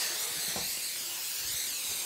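A steady, soft hiss of cooking spray sprayed lightly, continuous and fairly quiet, with no talking.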